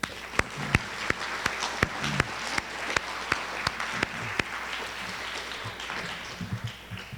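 A modest round of applause at a junior high awards ceremony for a teacher, Mrs. Black, with distinct individual claps standing out over a softer, fairly distant crowd clapping.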